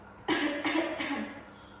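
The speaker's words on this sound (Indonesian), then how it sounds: "Bisa batuk Bapak?" A single cough from a man close by during a hernia examination, a short burst broken into about three rough pulses, in a quiet room.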